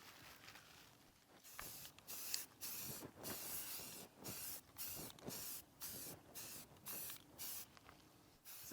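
Repeated bursts of aerosol spray paint coat a car hood outdoors in the desert, each hiss lasting about a second with short gaps between, close and steady in level.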